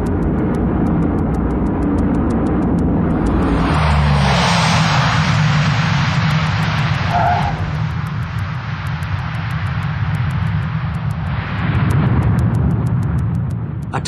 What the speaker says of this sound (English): A tactical landing.